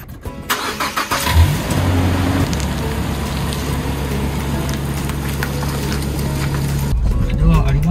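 A car engine turns over and settles into a steady running drone, then the hum continues as the vehicle pulls away from an RV park in Tamba-Sasayama, Japan, with a few clicks at the start.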